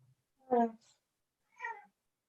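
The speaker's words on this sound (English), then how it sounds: "Oh, he just meowed." A cat meows twice indoors, two short clear separate meows about a second apart in an otherwise quiet room.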